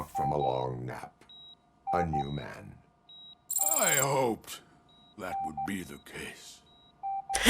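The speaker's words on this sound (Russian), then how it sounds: "вот это пик-пик меня уже заебало" Short electronic beeps repeat at steady intervals during a RoboCop: Rogue City game session, faint and thin under someone talking and a brief burst of game noise.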